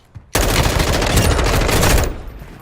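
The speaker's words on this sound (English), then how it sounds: "Taking fire!" Sustained automatic gunfire from a Call of Duty DMZ match bursts in suddenly, loud and dense, rattling continuously for nearly two seconds before cutting off.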